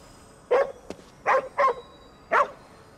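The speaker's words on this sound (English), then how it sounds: "Must be our dog." A dog in the video game Ghostwire: Tokyo barks four times, short sharp woofs spaced unevenly at close range against a quiet background.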